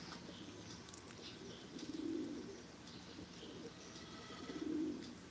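A voice imitates a pigeon, giving two soft, low cooing phrases a few seconds apart, faint and close with quiet room noise between them.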